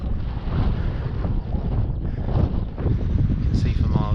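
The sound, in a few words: wind on Dartmoor tor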